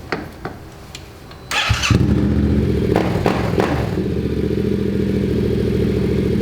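A couple of clicks, then a Yamaha Ténéré 700 motorcycle engine cranks and fires up, settling into a loud, steady rumbling idle with a few throttle blips.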